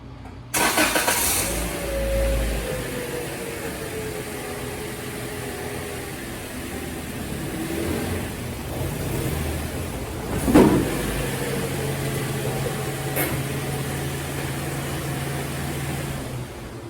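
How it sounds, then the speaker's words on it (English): A 2015 Toyota Corolla with a 1.8L engine starts and idles, then creeps forward slowly up onto ramps, engine note rising briefly with a muffled thump midway, steady and close with no talk. "Then we're gonna get in the car and drive it up to where the wheel sits right there on that logo."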